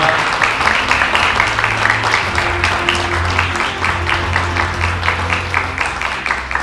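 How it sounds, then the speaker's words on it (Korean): An audience at an award ceremony applauds continuously and fairly loudly, with dense, sustained clapping throughout and a murmur of voices underneath. "여러분이 좀 박수 쳐주시면 좀 기분이 나."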